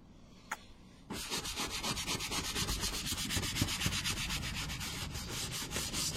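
Vigorous brushing against the leather seat of a BMW E46 with cleaner, starting after a brief quiet moment and then a loud, close, rhythmic back-and-forth scrubbing that keeps going steadily.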